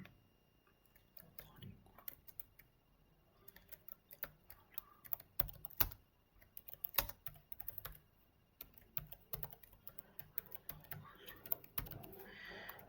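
Someone typing code on a computer keyboard, irregular bursts of soft key clicks and taps at close range, quiet and without talk.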